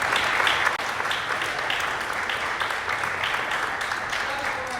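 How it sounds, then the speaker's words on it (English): Banquet guests at an NAACP branch's 74th anniversary Freedom Fund dinner give a sustained round of applause, a steady dense patter of many hands filling the room throughout. "You need to give yourselves a round of applause."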